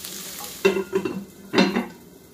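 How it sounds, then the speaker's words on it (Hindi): Onion and ginger, with tomato to follow, fry lightly in a pan, with two distinct bursts of spoon-stirring and sizzle over a quiet background. "प्याज, ये फ्राई हो जाएगा हल्का सा,"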